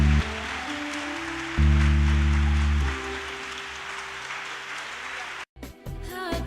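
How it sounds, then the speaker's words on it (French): Sustained crowd applause acclaiming Reverend Georges Amokou at a church celebration, dense and steady clapping over low organ or keyboard tones, swelling louder midway before a brief break near the end. "levons-nous et acclamons le révérend Georges"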